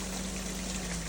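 Cold mountain water at a free roadside bathing spot in the hills of Matanao, Davao, flows in a steady, close hiss and trickle that stays even throughout, with no voices.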